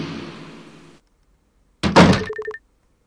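A door opens in the horror game Trick and Treat with a short, heavy thunk and a rattling clatter. It follows a fading hum and a second of silence, then a few small taps trail off after it.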